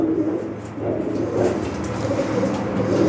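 Pigeons coo in soft, low, rolling calls that repeat over a steady background hum.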